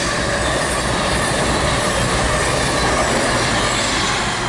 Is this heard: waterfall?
no